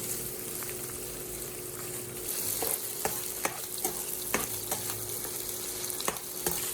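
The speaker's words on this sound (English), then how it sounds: "You will hear a gentle sizzle and smell the meat as it begins to brown." Pork sizzles steadily in rendered fat in a hot pan, a constant crackling hiss with occasional sharp pops and scrapes of stirring, close and fairly quiet.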